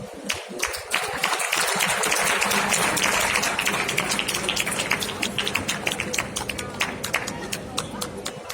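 Audience applause at a World Vitiligo Day felicitation, a dense, loud burst of clapping that swells quickly, holds steady for several seconds and then slowly thins out, with sharp individual claps standing out near the end.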